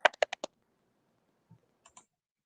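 Someone types on a computer keyboard in the background, giving a quick burst of four or five sharp clicks, a pause, then a few more isolated taps.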